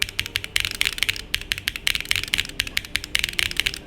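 Stock Akko Cream Yellow V3 Pro switches on a keyboard clack in rapid, steady typing, with dense crisp keystrokes close up and no other sound.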